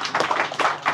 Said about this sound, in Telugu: గట్టిగా చప్పట్లు కొట్టినాడికి